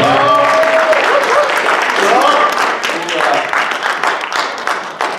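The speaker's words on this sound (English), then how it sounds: "Give her a round of applause." Audience applause at a high school staff meeting awards presentation for student Lauren Binks, a dense steady clapping that stays loud throughout, with a voice carrying briefly over the start.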